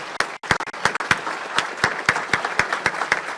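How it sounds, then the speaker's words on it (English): A small group at a community luncheon claps for donors, sparse individual claps standing out as sharp, distinct hits in an uneven rhythm, moderately loud and close. "So huge round of applause for those 134 that gave."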